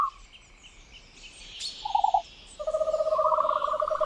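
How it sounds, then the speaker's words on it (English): Dilophosaurus call from Jurassic Park, a cooing, owl-like hoot: a short tonal note near two seconds, then a longer sustained two-tone hoot toward the end, moderately loud over a soft background hiss. "That's the call of Dilophosaurus weatherilli."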